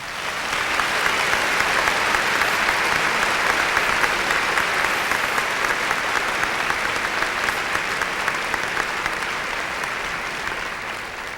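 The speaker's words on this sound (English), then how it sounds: "give the Russellville High School graduating class of 1999 the round of applause they have earned" An audience at the Russellville High School class of 1999 graduation applauds, dense, continuous clapping from a large crowd that stays strong throughout and only eases slightly near the end.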